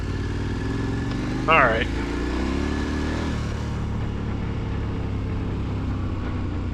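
A KTM 1290 Super Adventure R motorcycle rolling on gravel on knobby tires gives a steady, loud engine drone with a slight rev partway through, while a rider speaks briefly over it.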